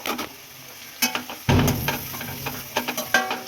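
Onion, garlic and green chili frying in oil in a pan: a soft steady sizzle with a stirring scrape and a burst of louder frying, broken by light clinks and ticks of the spoon against the pan.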